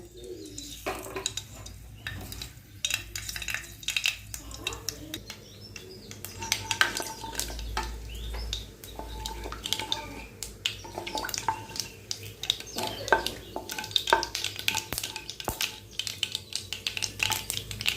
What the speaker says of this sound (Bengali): তেলে দিলাম কালো সর্ষে।